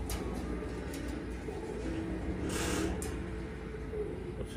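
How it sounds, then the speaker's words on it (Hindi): Soft low cooing of a pigeon repeats over a steady background hum and distant traffic noise. "जी कबूतर है जी।"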